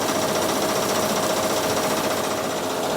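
A sand pit scalper and a double-deck screen run together, giving a loud, steady, unbroken mechanical roar and rattle, close by and with no voices.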